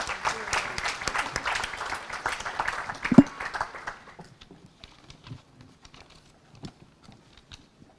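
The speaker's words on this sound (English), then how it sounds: "So I hope you give a round of applause to all of them" An audience applauds a conference panel, the clapping dense and loud for about four seconds before thinning to scattered claps and fading out.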